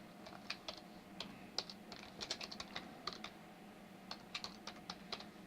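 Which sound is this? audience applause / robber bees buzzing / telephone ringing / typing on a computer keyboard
typing on a computer keyboard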